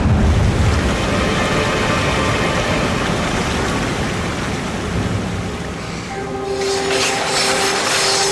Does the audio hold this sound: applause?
no